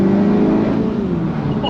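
Car engine fitted with a Racingline R600 performance airbox revving loudly up close, a throaty sustained roar whose pitch falls slightly as the revs drop over a couple of seconds.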